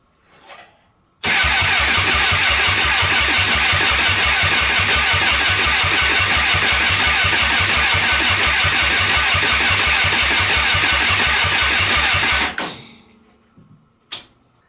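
A car engine with low compression after severe overheating cranks steadily on the starter during a compression test, a loud rhythmic churning that runs for about eleven seconds before stopping abruptly.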